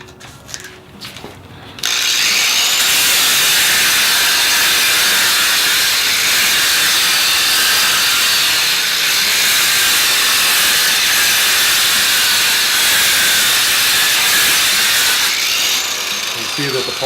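A Blaster variable speed angle grinder runs steadily, dry polishing a floor with a 400 grit pad, a loud continuous whirring hiss that starts abruptly after a brief quieter moment and holds evenly until it trails off near the end.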